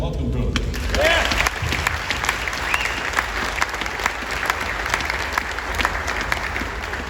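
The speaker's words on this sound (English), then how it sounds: "A round of applause." Applause welcoming a new coach at a university athletics press conference, a steady round of clapping from a room of people with some sharper individual claps, while people talk underneath.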